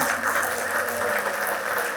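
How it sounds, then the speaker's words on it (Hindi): Sustained applause from a crowd, dense steady clapping without pauses for the whole stretch. "तालियां बजा के उनका बहुत बहुत अभिनंदन।"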